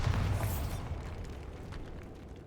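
A Bombarda blasting spell in Hogwarts Legacy sets off a loud, close explosion with a heavy low boom at the start, fading into a rumbling tail of debris.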